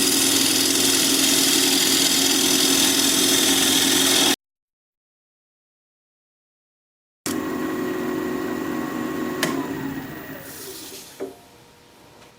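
A wood lathe turning the tenon of a natural-edge maple bowl at 1200 RPM with a diamond point tool gives a steady loud hum and scraping, then a gap, then spins down.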